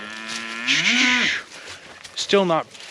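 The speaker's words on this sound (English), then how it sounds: "All these other cows are walking down here and you're trying to come back this way." Cattle on a farm moo, one long drawn-out call followed by a shorter second moo, loud and close with no talk over them.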